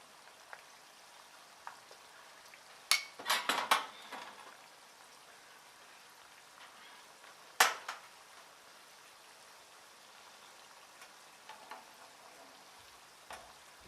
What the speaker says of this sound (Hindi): चिकन को हमें गोल्डन ब्राउन होने तक तलना है।